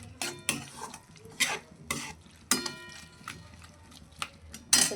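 Okra cooked in yogurt is stirred in a hot pan. A spoon scrapes and clatters in repeated strokes over a soft sizzle, close and loud, with no voices.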